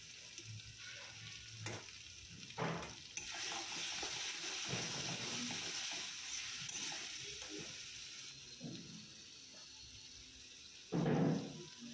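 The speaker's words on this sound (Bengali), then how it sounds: "হলুদ গুঁড়ো, নুন, গোলমরিচ গুঁড়ো, সব মশলা দিয়ে ভালো করে কষাবো।" Rita fish fries in a pan with turmeric, salt and pepper, giving a soft continuous sizzle with intermittent scraping stirs, faint and close, plus a brief louder clatter near the end.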